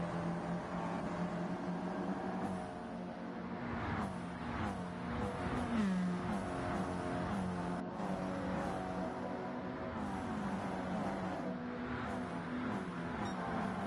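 Stock cars race in Gran Turismo 7 in a CASCAR Cup Series event, a continuous layered engine whine with revving surges and passing cars, steady and without talk.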